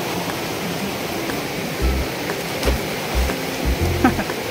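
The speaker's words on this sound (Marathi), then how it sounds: "पाऊस तर आता आलेले, थोडं थोडं पाऊस चालू झालेले" Light rain falls near Anjani Kund waterfall in Gujarat as a steady, diffuse outdoor hiss, with a few soft low thumps scattered through it.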